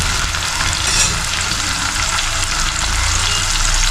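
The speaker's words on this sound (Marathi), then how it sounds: "कांदा आणि टोमॅटो मस्त एक झाला पाहिजे, आता आपण शिजून घेऊ" Onion and tomato fry in a pan over heat, a loud, close, continuous sizzle and crackle that holds steady the whole time with no talking.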